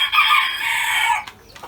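A rooster crows loudly and close in a chicken coop, one long sustained call fading out, followed by a few faint clucks.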